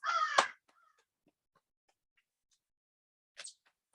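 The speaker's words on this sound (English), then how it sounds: "You can hear the crows and the squirrels having a conversation." A crow caws once close by outdoors in a quiet forest, then a second fainter call follows a few seconds later, with long stillness in between.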